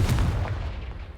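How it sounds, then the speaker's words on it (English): A Confringo blast spell fires in Hogwarts Legacy, a dense booming burst with rumbling low end that holds loud across the whole moment and tails off slightly at the end. "Confringo!"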